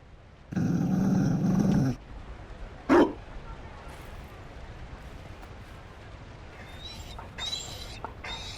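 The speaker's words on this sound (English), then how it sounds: "You found a dog." A Mabari war dog in a Dragon Age game growls low and steadily for over a second, followed by a sharp single bark and quieter game ambience with faint sounds.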